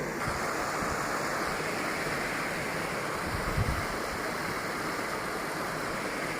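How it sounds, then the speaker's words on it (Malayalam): Water pours steadily over a small earthen dam built to hold water in a green paddy field, a continuous close rushing wash that stays even throughout, with no voices. "ആ ചെറിയൊരു മിനി വെള്ളച്ചാട്ടം"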